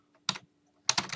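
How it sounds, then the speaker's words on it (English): Two short bursts of keystrokes on a computer keyboard as search terms are entered, quick clicking clusters separated by a brief pause, close and clear in a quiet room. "I might type where it says insert terms, nurses and negligence."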